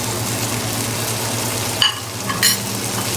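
Tomato and cumin seed sautéing in a pan for pav bhaji, a steady close sizzle with a low hum beneath and a couple of brief utensil scrapes and clinks.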